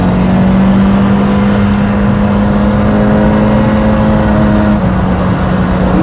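A Lotus sports car accelerates hard on a bumpy road, its engine a loud, steady, close drone with a sustained low tone and road rumble throughout.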